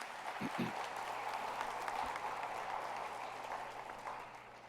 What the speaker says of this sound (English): Let's give our commissioners a big round of applause.